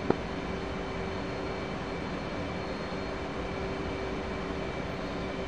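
Steady, broad engine roar of an F/A-18C Hornet jet in the flight simulator DCS World, a continuous even rush with a faint whine and one small click at the start, heard alone.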